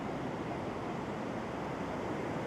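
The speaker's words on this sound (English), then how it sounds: "Just out here enjoying this beautiful ocean today." Ocean surf at Huntington Beach, a steady broadband wash of breaking waves with some wind rumble, continuous and fairly loud with no talking.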